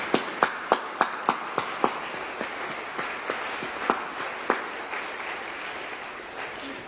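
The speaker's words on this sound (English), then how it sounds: "I think they deserve another collective round of applause." Outdoors at the Doncaster light festival, an audience gives scattered applause after poetry readings: a few sharp, evenly spaced claps stand out over a soft wash of crowd noise and fade within seconds.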